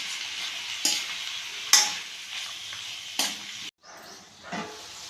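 Onion and tomato sizzle steadily while being sautéed in a pan for chutney, with a few louder stirring scrapes punctuating the continuous frying hiss and a brief break near the end.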